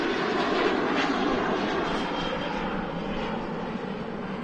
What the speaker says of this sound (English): We've just got a Ryanair departing at the moment